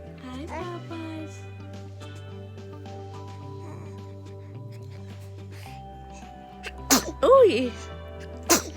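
A single close sneeze bursts out near the end, with a second short burst just after, set against a steady low hum and background talk.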